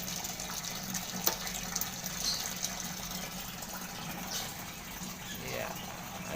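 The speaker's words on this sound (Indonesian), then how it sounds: "Ya, air keluar." Water draining out of a manual washing machine through an added drain motor, a steady low gushing flow that runs throughout at a moderate distance, with faint voices in the background.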